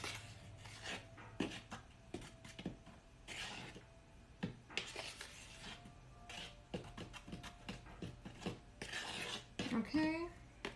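A spoon stirring chocolate chip caramel cookie dough in a big bowl, repeated close scraping and knocking strokes in an uneven rhythm, with a sharper clink near the end.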